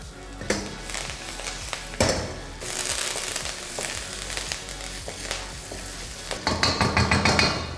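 Chicken sizzles and spatters steadily in hot oil with garlic, chopped ginger, slit green chillies and plenty of curry leaves, with stirring scrapes and clatters throughout and a louder burst of frying near the end.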